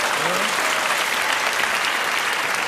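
Steady audience applause from a crowd, dense continuous clapping filling the whole stretch at an even level, with a brief voice-like tone near the start.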